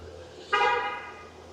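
A car horn gives a single short chirp as the car is locked on a rainy downtown street in Kingston, Ontario, fairly close over steady street ambience.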